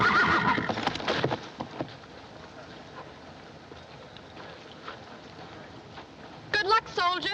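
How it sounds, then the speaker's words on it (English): A wild horse neighs loudly at the start and again near the end, with hoofbeats and scuffling in between, in a 1941 film comedy scene. "It's a wild horse."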